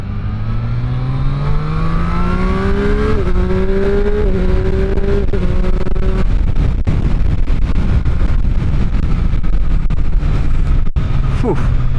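Triumph Street Triple 765 RS Moto2 Edition motorcycle at full throttle, its engine note climbing steadily through the revs with a gear change midway, heard close under constant heavy wind rush.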